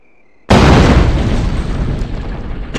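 A gunshot blast and explosion from the Western action video game Gun: one loud, sudden broadband boom after near silence, followed by a long, rumbling decay that fades slowly without any speech.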